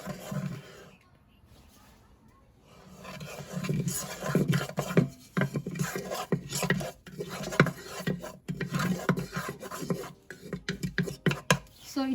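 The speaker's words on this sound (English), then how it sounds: "So I will stir for a little while. So I've taken a wooden spatula." Wooden spatula stirring mustard seeds in hot oil in a pot, a close series of soft scraping knocks and rattles that builds after a quiet start and keeps an uneven rhythm.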